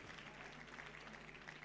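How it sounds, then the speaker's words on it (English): Steady applause from a crowd, a continuous patter of clapping heard fairly faintly. "A big round of applause."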